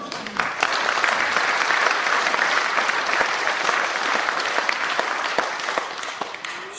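A church congregation applauds during an ordination service marking a church's fortieth anniversary, steady full-room clapping lasting several seconds with no talking on top.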